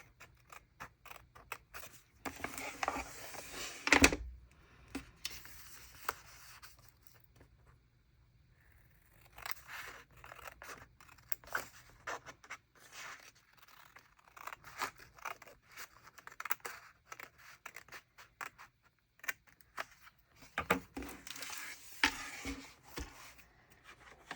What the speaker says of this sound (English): this is my gyro cut. It is my favorite cutting tool for anything that is rounded,